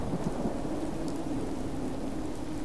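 In the Moribund World game with mods, steady rain hisses while deep thunder rolls low and continuous underneath, with no speech over it.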